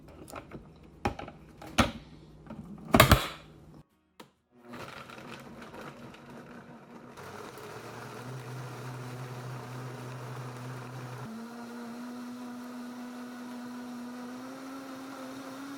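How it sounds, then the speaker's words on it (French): An electric blender purees raw soup: after a few clattering knocks, the motor whirs up into a steady, fairly loud drone that shifts to a higher pitch partway through. "Donc, j'ai mélangé la soupe"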